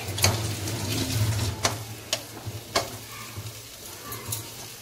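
Potatoes fry in a pan with salt and chili, a steady close sizzle with a few sharp clinks and scrapes of stirring, and no talking.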